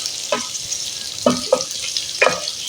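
Steamed taro and potato pieces hit hot oil in a pan, giving a steady sizzle with a few sharp stirring scrapes and bursts of crackle, close and fairly loud with no talking.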